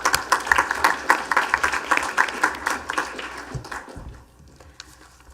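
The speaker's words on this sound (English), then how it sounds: "Let's go ahead and give a quick round of applause to Cadet Vaughn." Applause fills a school board of trustees meeting, a dense round of clapping from an audience that thins and fades out over a few seconds.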